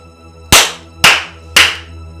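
Three slow, deliberate hand claps, evenly spaced about half a second apart, close and sharp against a quiet indoor room, delivered mockingly in a Nigerian Nollywood wedding-day drama scene.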